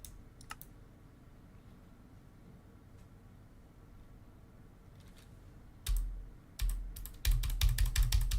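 Someone types on a computer keyboard during a Minecraft GregTech New Horizons session, starting with sparse, faint taps and ending in a burst of louder, rapid clacking keystrokes close by.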